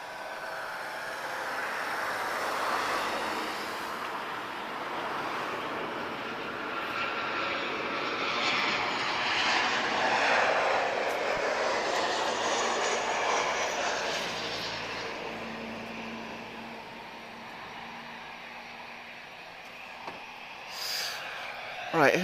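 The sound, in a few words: Royal Air Maroc airliner engines on the move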